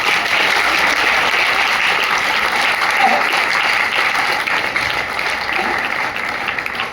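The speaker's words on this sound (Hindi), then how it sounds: "एक्साइटेड होने के लिए तालियां मारनी" Continuous, loud applause from an audience at a marketing presentation, a dense, even wash of clapping that holds steady for several seconds.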